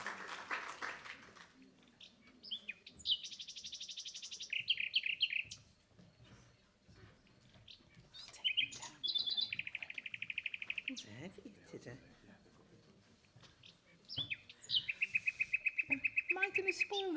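Nightingale song played at a London literary festival session, bursts of rapid trills and chirps with pauses between phrases, moderately close, with faint background murmur.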